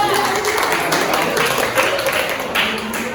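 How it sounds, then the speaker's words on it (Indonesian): A classroom of university students applauds a peer-teaching group in a dense, continuous patter of many hands clapping at close range, with faint talk underneath. "Beri tepuk tangan dulu kelompok 3."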